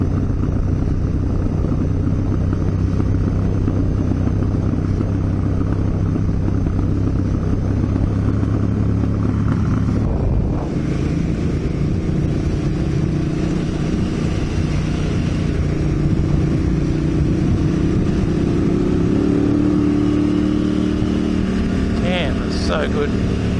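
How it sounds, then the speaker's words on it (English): Motorcycle engine braking in first gear on a winding, off-camber country road in February, a steady low engine drone with wind noise throughout, the pitch shifting midway as the revs change. "It's just engine brake in first gear."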